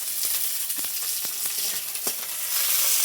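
Garlic and onion frying in a pan, a continuous bright sizzle with faint scattered ticks and pops and no voices, steady throughout and swelling slightly at the end.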